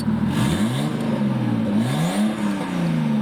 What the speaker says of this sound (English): You can hear there's a little bit of an exhaust leak.